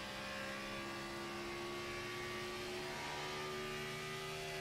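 A race car accelerates up through the gears on a track during a live night race, its engine holding a steady, gradually rising whine that winds up continuously, moderately loud and without talk.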